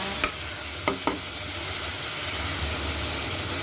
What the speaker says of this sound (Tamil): இப்போ நம்ம ஆனியன் ஆட் பண்ணலாம். நல்லா ஃப்ரை பண்ணி விடுங்க.